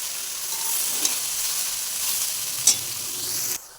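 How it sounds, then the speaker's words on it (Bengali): Drumstick flowers frying in a pan with eggplant, a steady close sizzle with faint stirring scrapes and one brief clatter, cutting off sharply near the end. "সজনে ফুলটা দিয়ে বেশিক্ষণ ভাজবো না, তাহলে ফুলের যে গুণটা আছে সেটা নষ্ট হয়ে যাবে।"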